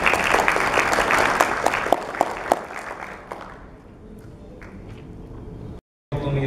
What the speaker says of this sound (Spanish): Así que fuerte el aplauso para él.